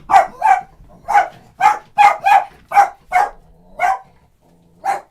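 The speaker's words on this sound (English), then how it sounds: "The dog's going crazy." A dog barks repeatedly inside a studio, about ten sharp, loud barks in an uneven rhythm over five seconds, close to the microphone with brief gaps between them.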